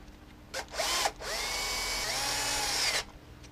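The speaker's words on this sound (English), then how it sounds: "Tighten the bolt." A power tool tightens a bolt on a Ford FMX automatic transmission valve body: a short whirring burst, a pause, then a longer steady whine that winds down, close and loud with no talk.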